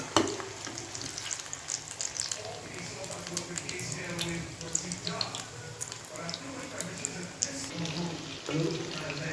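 Chicken kabab pieces sizzling in oil over a medium flame, a steady dense crackle running throughout at close range with small pops, while a voice talks over it.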